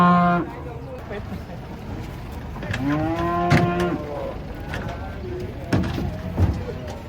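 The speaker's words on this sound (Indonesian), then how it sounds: "Sapinya belum mandi, kotor banget." A cow moos several times, drawn-out low calls that rise and fall and stand out over murmured background talk.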